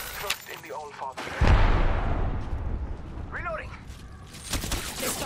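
An Arc Star grenade blows up in Apex Legends, a sudden loud burst that leaves a rumbling, crackling tail, with gunfire and other game noise around it and voices talking before and after.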